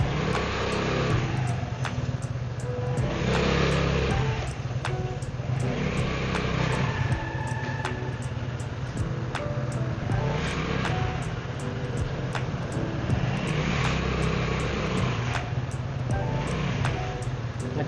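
A Vespa scooter fitted with a rear rack and top box circles a parking lot. Its engine gives a steady, close, continuous drone with slight rises in pitch and a faint regular ticking throughout.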